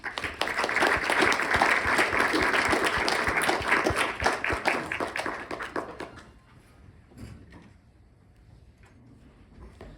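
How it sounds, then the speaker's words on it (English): An audience applauds after a talk by Salam Hamdan. The loud, dense clapping holds steady for about six seconds, then thins out and fades into a quiet room. "let's give a round of applause to Salam"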